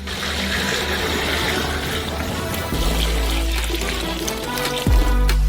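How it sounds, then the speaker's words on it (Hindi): Water runs steadily from a tap into a saucepan holding ground coffee, about five litres being filled, with a continuous splashing pour that deepens in pitch partway through and swells louder near the end. "उन्हें 5 लीटर पानी से भरे।"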